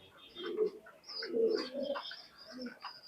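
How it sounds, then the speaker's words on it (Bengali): Imported royal teddy pigeons coo in soft, repeated low throaty phrases, close by, with faint chirps and other bird calls in the background and no talking. "এখানে চার পিস কবুতর দেখতেছি এই রয়্যাল এবং এরই বাচ্চা"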